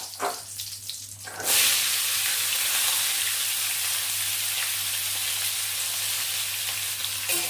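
Drumsticks, radish, potato, carrot and beans drop into hot spiced oil in a pot for khichuri, bursting into a loud, steady, close sizzle after a short quieter moment.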